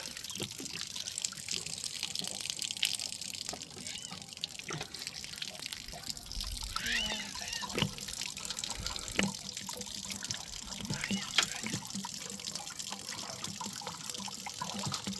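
Water trickles and drips steadily from a caravan water heater being drained, splashing softly and irregularly onto a surface, fairly quiet and close.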